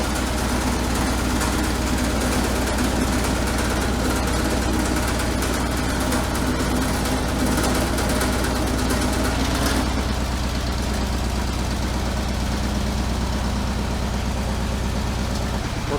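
Engine of a big garden tractor idling steadily, a loud continuous low rumble with an even pulsing throb that holds the whole time, nothing else over it.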